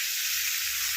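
Prawns fry in a hot pan, giving a loud, continuous bright sizzle that stays close and steady throughout.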